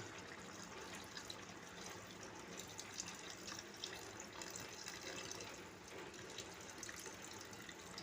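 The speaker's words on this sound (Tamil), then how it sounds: "இன்னொரு கப்பு புளி ஊற்றிக்கங்க." Liquid pours steadily into a cooking pot as a cup of tamarind water is added, a continuous soft splashing and trickling close by, faint and unbroken.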